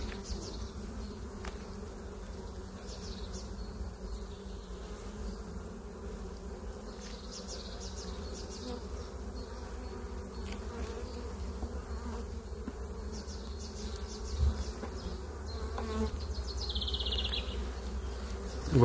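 A honeybee colony buzzes at an open hive during beekeeping work, a dense continuous hum of many bees close by, steady throughout with occasional louder passes and light handling knocks.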